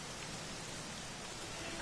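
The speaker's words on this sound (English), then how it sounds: "it's going to start raining because we're having an emotional time" Steady rain pours during a quiet stretch of the Dragon Quest 11 video game, a dense, even hiss of falling water that holds unbroken from start to finish with no voices.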